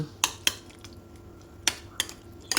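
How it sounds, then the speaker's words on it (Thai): Quiet scraping and clinking of a utensil against a bowl while mixing pizza sauce ingredients with onion and tomato, a few sharp taps spaced irregularly, no talking. "คลุกเคล้าส่วนผสมให้ เข้าเนื้อกัน"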